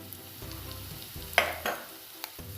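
Ground spices (coriander powder, chili powder and garam masala) fry in a pan for a Kerala-style crab kurma, giving a soft steady sizzle broken by a few sharper stirring scrapes near the middle.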